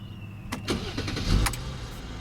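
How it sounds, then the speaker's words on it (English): A 2016 Mercedes CLS with a 3-liter bi-turbo V6 starts up: a short crank and catch with a few sharp clicks, then a brief rev settling into a smooth, fairly quiet idle. "what you're hearing there is a 3-liter bi-turbo V6 engine"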